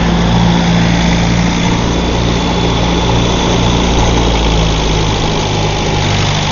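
A loud Series II Land Rover engine idles steadily after a cold start with a rough, rhythmic low chug and constant mechanical hum, close by and uninterrupted.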